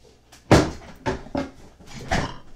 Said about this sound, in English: Aries, just let me move my chair in